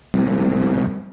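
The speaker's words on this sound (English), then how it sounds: "This growl here is made from one of the beeps and is played very low." A low-pitched synthesized beep, heavily distorted into a rough buzzing growl, starts abruptly and sustains loudly for about a second before tapering off.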